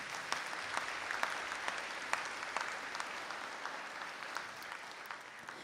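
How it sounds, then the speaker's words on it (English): An audience at a conferring ceremony in Donegal applauds graduates, with steady, fairly distant clapping that holds evenly throughout and no talk over it. "A round of applause for the graduates,"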